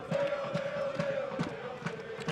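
Spectators at a Toronto FC II versus Richmond Kickers soccer match chant and cheer together, a sustained crowd voice with rhythmic pulses of clapping or drumming, heard from a distance across the stadium.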